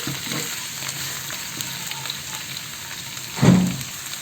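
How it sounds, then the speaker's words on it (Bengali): Chopped onions, three large ones, fry in a pan of oil for a prawn bhuna, giving a steady close sizzle with a short stirring thump near the end. "আমি পেঁয়াজটাকে একটু ভেজে নেব"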